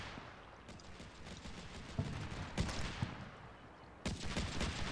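Bradley vehicles in the video game Combat Mission Shock Force 2 fire a dense stream of rapid gunshots and a few heavier bangs, continuous and fairly loud, with no talk.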